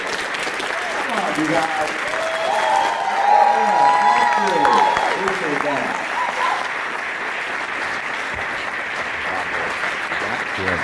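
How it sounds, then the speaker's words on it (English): Sustained audience applause fills a hall as a doctor is welcomed on stage before a health talk, with a voice speaking over the clapping and crowd noise throughout. "Give him a big round of applause"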